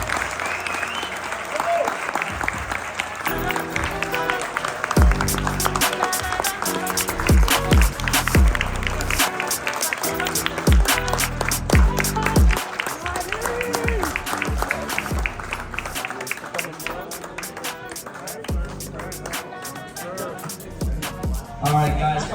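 Audience applause after speeches at a league hall of fame night, dense and sustained throughout, mixed with loud rhythmic music and voices.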